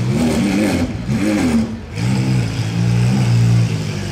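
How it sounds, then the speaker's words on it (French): A Lamborghini SVJ engine revs hard in Monaco, its aggressive rising and falling roar close and loud, with a brief drop before settling into a strong sustained drone. "C'est le bruit des SVJ en beaucoup plus agressif en fait."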